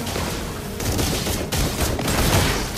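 Granger's bullets blast in a rapid barrage in the Mobile Legends video game: loud, dense, continuous gunfire with overlapping booming impacts filling the whole stretch.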